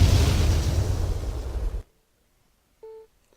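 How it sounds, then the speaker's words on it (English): A loud, rumbling explosion in the video game Jagged Alliance 2 roars for nearly two seconds and cuts off abruptly, followed by silence and a short electronic beep. "I still get some nice explosions."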